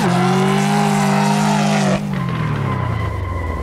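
Ford Mustang GT in the Assetto Corsa driving game on a steep California road, a loud steady V8 engine drone that drops in pitch as the car lifts off and coasts, no speech.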